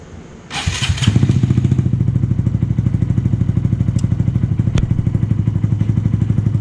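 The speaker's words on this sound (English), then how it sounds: "it's fired up with a straight pipe" A Honda Grom 125 motorcycle with a straight pipe exhaust and a leaky exhaust gasket starts up with a burst, then settles into a loud, steady, rapid-pulsing idle with a harsh, raw exhaust note, close by.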